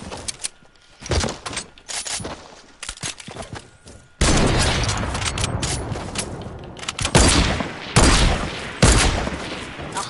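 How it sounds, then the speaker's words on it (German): Sniper rifle gunfire in a Fortnite match, heard as loud, sharp cracks and broadband bursts with bouts of in-game clatter between them, close and dense, with no one speaking. "Sniper Battle in Fortnite."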